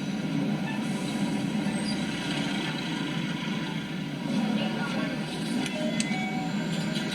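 Tram at Kabatas tramway station in Istanbul, a steady loud rumble of rail cars with faint wheel squeal and clicks filling the platform throughout, with no talk.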